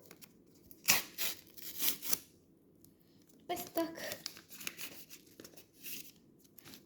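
Someone opens a small paper packet with a few sharp tearing and crinkling bursts, close and fairly quiet, separated by pauses, with a voice speaking briefly.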